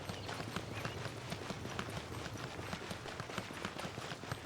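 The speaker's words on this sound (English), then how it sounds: "When you run with Sabai, you can faintly hear the rhythm of a horse galloping." Galloping hoofbeats from a running character's footsteps in the video game Genshin Impact, a steady, quick clip-clop rhythm kept low and faint in a busy game mix.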